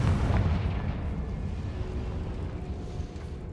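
A Confringo blasting spell goes off in Hogwarts Legacy, a deep booming explosion burst at the start that rumbles and slowly fades over a few seconds, with no voices.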